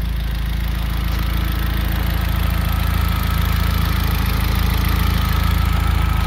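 A 2003 Volkswagen Beetle Turbo S idles steadily at close range, a constant low engine hum and rumble with no revving or voices.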